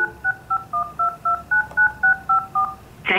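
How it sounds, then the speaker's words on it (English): A rapid, evenly paced string of about eleven DTMF keypad tones dials into an Avaya IP Office conference line, each beep crisp and close, followed by a short burst of line noise. "I simply dial the number."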